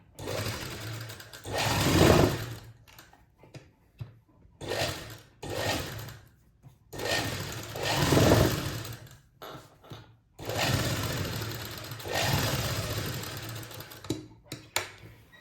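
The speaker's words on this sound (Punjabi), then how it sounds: "ਬਿਲਕੁਲ ਬੁਕਰਮ ਦੇ ਨਾਲ ਨਾਲ ਸਾਰੀ ਸਲਾਈ ਲਗਾ ਲਵਾਂਗੇ" Sewing machine stitching a garment neckline along buckram, running in several close bursts of rapid whirring stitches separated by short pauses as the fabric is repositioned.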